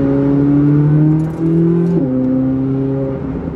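Chevrolet Corvette C8 with a 6.2-liter engine and Tremec dual-clutch transmission, revving loudly up close with rapid gear changes that drop the engine pitch abruptly, alone without talk.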